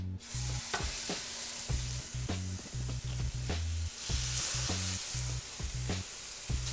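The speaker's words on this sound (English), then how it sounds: "When you put the burgers down in a hot pan" Four burgers sizzling in a hot pan with smoking olive oil, a loud continuous crackling hiss with bursts of spattering pops throughout.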